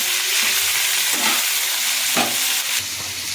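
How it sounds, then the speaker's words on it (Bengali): Ingredients for a bharta stirring and frying in a pan, producing a bright, continuous sizzle with a few soft stirring scrapes, close and steady throughout, with no talking. "ভালো নাড়াচাড়া করে ভেজে নিতে হবে"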